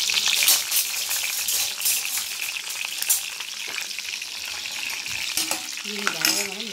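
Ginger garlic paste frying and being stirred in a pan over low heat for a palak rice lunch, with a close, steady crackling sizzle and stirring scrapes, and a voice speaking briefly near the end.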